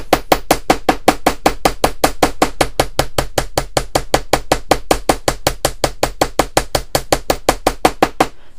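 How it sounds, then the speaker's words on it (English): A ball peen hammer flattens wire on a flat surface while a wire frame pendant is made, striking in a fast, very steady rhythm of loud, sharp metallic taps heard close up, with no talking. "I'm going to hammer all the way around here."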